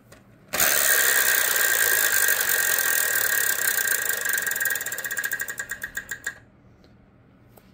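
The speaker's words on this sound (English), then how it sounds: "I like to spin" A Wheel of Fortune game show wheel spins with a loud, rapid ratcheting clatter of pegs against the flipper, which slows into distinct ticks before stopping.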